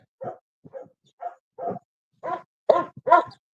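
Dogs barking out in the open, about seven short separate barks and yips with gaps between them, growing louder toward the end, with no voices.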